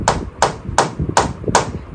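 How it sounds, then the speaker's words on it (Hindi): Five sharp, evenly spaced hammer blows ring out, roughly every third of a second. Nails are being driven into a PVC wall panel indoors, each strike loud and close with a short hollow knock. "हमें यहाँ पे मतलब कील वगैरह लगवाने थे दीवार पे"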